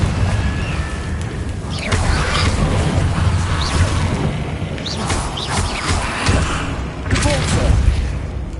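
Crackling magic blasts and booming explosions from the Confringo blasting spell in a Harry Potter video game, several bursts landing over a loud, continuous bed of combat noise, with a voice shouting over them.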